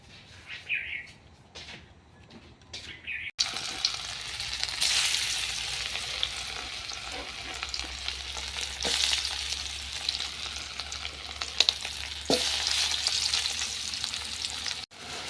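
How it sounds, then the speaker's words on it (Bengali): Masala spices sizzle and fry in a pan as they are sautéed and stirred for a chicken curry, a steady hiss with scraping strokes of a spoon, briefly quieter at the start before the frying swells and holds. "মশলাটা কষানো হয়ে গেছে।"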